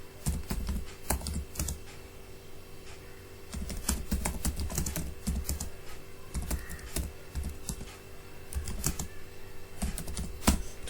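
Fingers type on a computer keyboard in steady, uneven bursts of close clicks, with no talk. The typing is in Google Docs.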